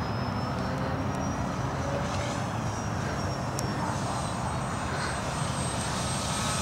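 An RC model Piper Cherokee plane held at full throttle, its small engine giving a continuous steady drone with a thin high whine, alone and fairly loud throughout.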